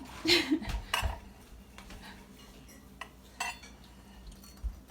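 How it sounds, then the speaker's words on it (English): A knife slices a piece of homemade banana bread on a plate in a home kitchen, with a few soft scrapes and sharp clinks of metal on dishware spread out between quiet gaps. "Now I'm going to slice a piece for Mama."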